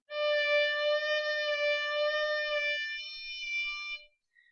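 A single sustained bowed string tone holds for about four seconds, steady and bright with a slightly uneven waver, then stops.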